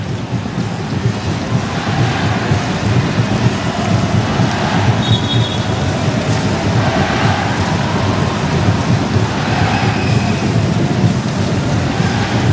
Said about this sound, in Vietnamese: Trên sân lúc này đang có mưa.